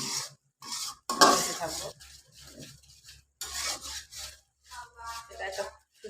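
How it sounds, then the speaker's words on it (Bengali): Spice masala being stir-fried in a pan for a jackfruit and potato curry, with scraping and rasping strokes of a spoon against the pan in bursts, close and moderately loud, alongside a brief spoken phrase. "মশলাটাকে কিছুক্ষণ আমি ভোনা করি, যতক্ষণ পর্যন্ত উপরে তেল না উঠে আসছে"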